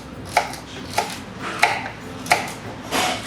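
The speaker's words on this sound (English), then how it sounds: "I'm chopping them thinly because you only grill it for a short time" Knife chopping pizza toppings thinly on a board, five evenly spaced sharp chops about every two-thirds of a second, close and clear.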